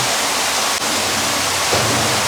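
A pool waterfall or shower fountain at an indoor pool in winter pours in a loud, constant rushing hiss of splashing water that runs without pause.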